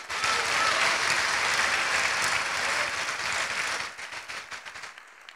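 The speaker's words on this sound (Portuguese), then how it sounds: "Você pode dar uma salva de palmas para o nosso Deus?" A church congregation applauding, a dense sustained roar of many clapping hands that thins into scattered individual claps and fades out toward the end.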